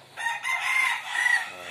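Stag roosters of a blue face gamefowl hatch crow in a flypen, one sustained cock-a-doodle-doo lasting over a second, loud and close, with a softer second call trailing at the end.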